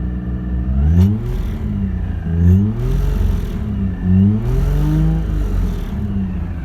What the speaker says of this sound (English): Sounds like a 1JZ.